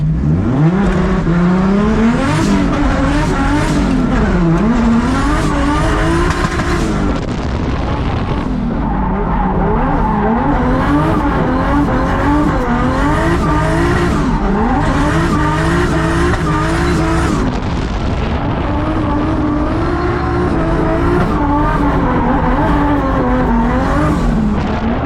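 Car drifting on a race track, a loud continuous engine roar with rising and falling revs layered over sustained tire squeal and skidding, close and constant throughout.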